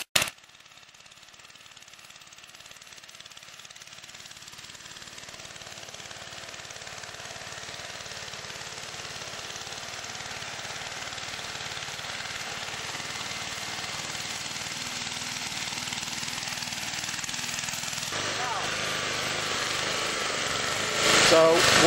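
A pump pulling Rocky Mountain well water for tree watering runs steadily for the whole stretch, a broad even whir that slowly builds in strength after a sharp start.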